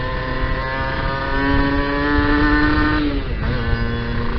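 Kawasaki Ninja R two-stroke with an original carburetor on a rich tune, its engine revving loud and close with a buzzing harmonic tone that climbs, holds briefly and then drops back to idle.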